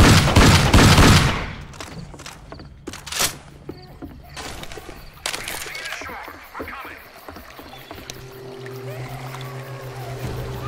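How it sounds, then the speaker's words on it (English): A shotgun fires in the zombie shooter Left 4 Dead on a Riverside campaign, heavy blasts at first, then scattered gunshots and game noise, with a voice talking in between. "This is a shotgun I can love."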